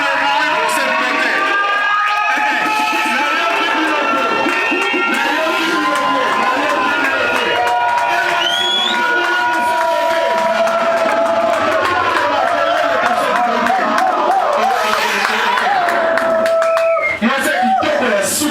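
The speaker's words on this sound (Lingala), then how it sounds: "Je demande respectueusement à l'épouse de se tenir debout sous vos acclamations. Un maximum de bruit pour cette beauté." Wedding guests cheer loudly for the bride at a celebration, a dense roar of shouts, ululating whoops and whistles that stays strong throughout, with voices calling out across the crowd.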